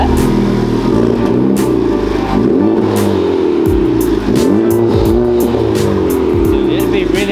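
Honda Civic Type R with a newly installed exhaust idling and revving at first start, a loud, close rumbling engine note with rising and falling revs, as people talk over it.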